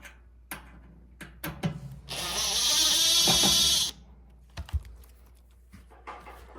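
Phillips screws being removed from the bottom panel of a Sub-Zero integrated 700BF(I) freezer drawer, sharp taps and clicks followed by a steady two-second whir of a powered driver, then more scattered knocks.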